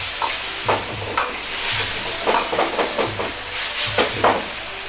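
Starch slurry being stirred into a sizzling broccoli sauce in a pan: a steady sizzle of frying runs under repeated scraping and stirring strokes with a utensil against the pan.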